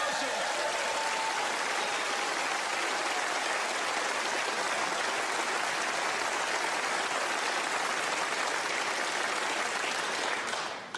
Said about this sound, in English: A round of applause for our runner-up.